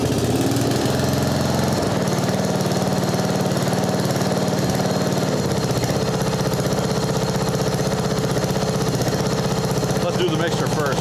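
A Mastercraft 12.5hp riding mower with a 38-inch deck idles nearby under carburetor repair, its engine holding a steady mid-pitched chug with a slight change in tone partway through.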